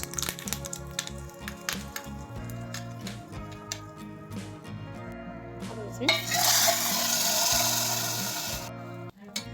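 Red chillies hit hot ghee for a dal tadka with a sudden loud sizzle partway through, after quieter stirring and clinking of utensils; the frying hiss holds steady before cutting off.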